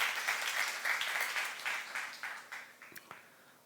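A church congregation at a youth service claps together in brief rhythmic bursts that taper off over a few seconds, fairly faint and distant in the hall.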